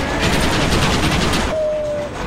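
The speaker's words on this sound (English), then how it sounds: "The train engine not looking so good." A train engine in the video game Red Dead Redemption runs loud and close, a dense rumbling rattle with rhythmic clatter, followed by a brief steady whistle-like tone.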